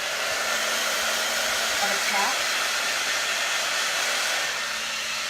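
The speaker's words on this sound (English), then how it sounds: "Let me just grab my hair dryer here, nifty hair dryer" A hair dryer runs on its cold setting with a loud, steady whoosh throughout, and a voice speaks briefly underneath.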